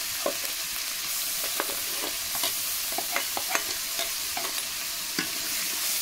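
Onion, garlic and ginger paste frying for a prawn malai curry, a constant close hiss of hot oil broken by irregular scraping taps of a spoon stirring the pan.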